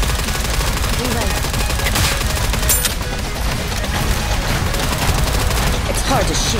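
Sustained automatic gunfire and rapid shots from the NIKKE Goddess of Victory shooter game, loud and dense throughout, with game voices calling out over the constant fusillade.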